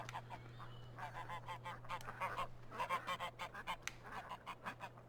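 Geese in the Farming Simulator 15 game honk softly in a quick, uneven series of calls over a steady low background hum, faint and with no talk over them.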